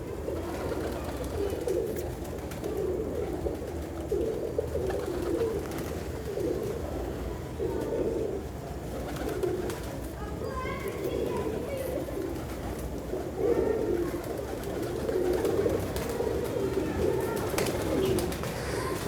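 Teddy pigeons of a pure, uncrossed line coo in soft, low, repeating throaty phrases close by, with faint background noise and a little talk.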